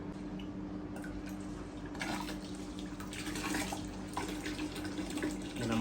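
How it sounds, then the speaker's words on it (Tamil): Tap water running steadily while topping up a Flowerhorn fish tank, a continuous close splashing flow with no talk. "ஒன்ஸ் நம்ம ப்ரெஸ் பண்ணிட்டு விட்டோம்னா ஆட்டோமேட்டிக்காக அது பாட்டுக்கு தண்ணி போயிட்டே இருக்கும்"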